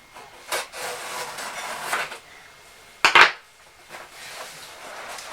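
Cutting open a Beautylish Lucky Bag 2019 beauty box package makes scraping, rubbing cuts with a sharp louder rip near the middle, close and fairly quiet, with no talking.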